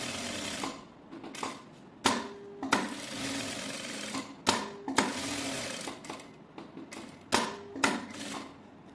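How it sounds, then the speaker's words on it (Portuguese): Sewing machine stitching around the edge of a piece of fabric, whirring in short bursts with sharp mechanical clicks and brief pauses, close up with no talk. "eu vou passar uma costura nessa bordinha aqui, em toda a volta do tecido"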